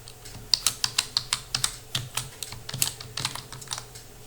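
Rapid typing on a computer keyboard, a quick run of crisp, close key clicks followed by looser irregular taps, with no voice.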